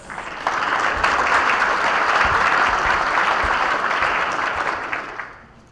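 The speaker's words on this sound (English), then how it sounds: "Audience, please applaud these public servants" At an Owasso chamber of commerce event, the audience applauds standing elected officials: a steady, moderately loud wash of clapping that swells in, holds for several seconds and fades out.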